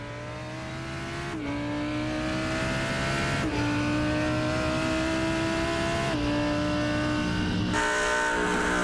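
A Lamborghini Huracan race car's 5.2-litre V10 screams at high revs in iRacing, climbing through gears with sharp upshifts at steady intervals, loud and close from on board, with no voices.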